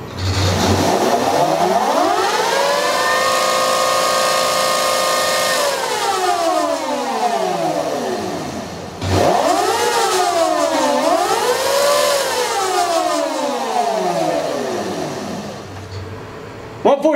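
Boom Moto EMB 300 electric motorbike passing at speed, a loud whining motor tone rising and falling in pitch in two close sweeps, near and steady, with no talk.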